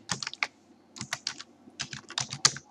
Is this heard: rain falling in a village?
no